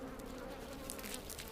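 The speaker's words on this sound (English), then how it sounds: "These too are honeybees. They made their hive in a hollow tree." Japanese honeybees swarm around their hive inside a hollow tree, a steady, dense close-up buzz with no speech, brief brighter whines of individual bees flitting past near the end.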